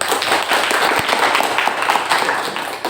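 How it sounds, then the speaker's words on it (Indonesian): Applause from students in a classroom for two classmates, a brief burst of dense, steady clapping that fades at the end. "Berikan dulu aplaus untuk Ananda Ulil dan Ananda Makbul"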